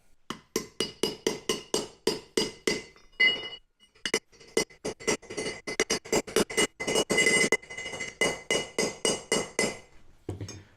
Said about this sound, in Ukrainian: Беремо головку на 32, ставимо прямо на кону сюди, на робочу поверхню, і добиваємо обойму до кінця.